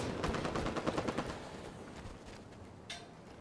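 Rapid automatic gunfire in the shooter video game Halo 5: Guardians, a dense burst of close shots that thins out and ends with a sharp single crack.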